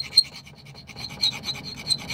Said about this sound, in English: when you file the paint off